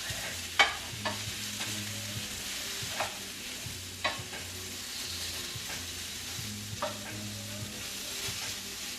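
Vietnamese meatballs fry in a pan with a steady, close sizzle, while a spoon or spatula stirs and taps against the pan every second or two, with no talk.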